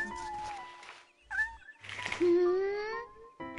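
A small cat meows repeatedly in the video game Shenmue, with several short, rising and falling calls and one longer drawn-out meow, clear and close.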